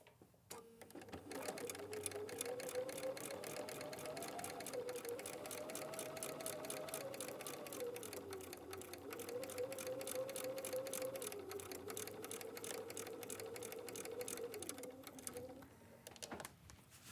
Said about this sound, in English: we're going to sew on that line